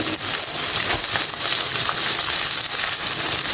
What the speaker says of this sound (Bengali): তেলটা গরম হয়েছে মাছটি আমি বেজে নেবো মাছটি দিয়ে দিছি